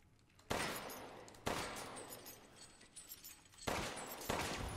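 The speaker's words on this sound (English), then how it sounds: "Back to shooting. Shoot your problems." Gunfire in Resident Evil Village, four sharp loud shots spaced unevenly over five seconds, each followed by a short ringing decay, with no voices.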